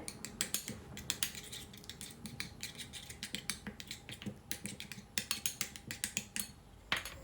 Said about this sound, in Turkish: Evet şimdi bu malzemeleri güzelce karıştıracağım.